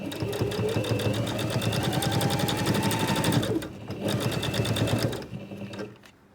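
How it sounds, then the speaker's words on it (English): A sewing machine stitches an iPad mini cover in a rapid, steady mechanical chatter, close and continuous, briefly slowing at a corner pivot before resuming and stopping. "I'm going to sew into the corner, leave my needle in and pivot around the corner."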